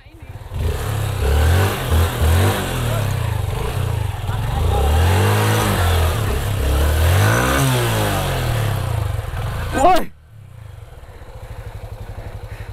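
Yamaha WR155R dirt motorcycle revving hard on an off-road trail, engine note rising and falling loudly for about ten seconds before cutting off abruptly, with a shout and voices nearby.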